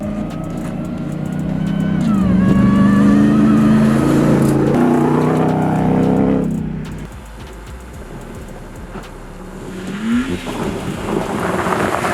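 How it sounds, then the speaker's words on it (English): A Hellcat-engined vehicle, the 2026 Ram TRX, roars loudly with a rising supercharger whine and deep exhaust as it approaches and passes close by, then fades before a brief second surge. "That whine to exhaust noise is like second to none."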